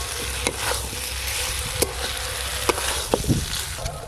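Fried potatoes, pointed gourd and shrimp sizzle in oily masala as they are stirred, a steady close crackling hiss broken by several sharp spatula scrapes and taps.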